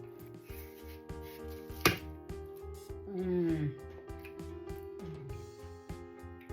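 A knife cuts into a white watermelon with a few crisp chopping knocks and a soft slicing scrape, close up, while a person talks over it.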